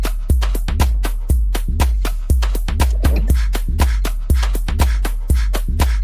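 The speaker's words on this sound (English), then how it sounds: "This is house music." House music with a steady four-on-the-floor kick, heavy bass and bright repeating hi-hat and synth hits, loud and close with no talking.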